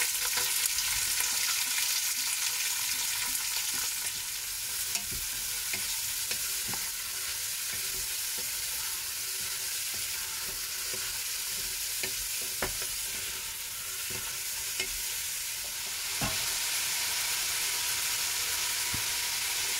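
Onions and a handful of curry leaves fry steadily in hot oil for a mutton dalcha, a continuous broadband sizzle with faint clicks of stirring now and then, close and unbroken, with no voices.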